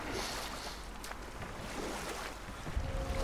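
A boat crosses the sea in the video game God of War, a faint, steady rush of wind and water with a low rumble throughout and a soft knock near the end.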